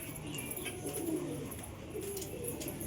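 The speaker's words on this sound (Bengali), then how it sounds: "আর এইদিকে আপনার সব পায়রা কুটুর কুটুর করে ঘুরে বেড়াচ্ছে" Pigeons at a pigeon house coo softly and continuously on a rainy day, a low murmuring burble over a steady hiss of background noise.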